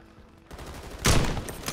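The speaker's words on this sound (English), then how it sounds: "I'm being shot at, Ryan. I'm being shot at." Gunfire in a battle royale video game: a short, dense burst of shots erupts after a quieter start, loud and close, peaking in a sharp volley near the end.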